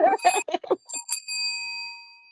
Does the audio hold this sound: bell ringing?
yes